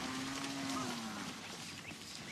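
Cattle giving a single drawn-out low moo that slides gently downward, set against quiet, steady outdoor ambience at moderate distance.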